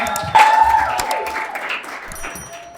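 Applause from the audience at a career and entrepreneurship expo in South Africa, a burst of clapping rising suddenly and then thinning out over a few seconds, with a tonal whistle or feedback line and faint voices mixed in.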